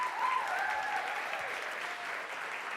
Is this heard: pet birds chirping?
no